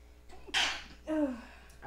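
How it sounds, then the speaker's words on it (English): A single sharp sneeze bursts out indoors and is followed by a short voiced breath, loud and close against a quiet room. "I have to sneeze."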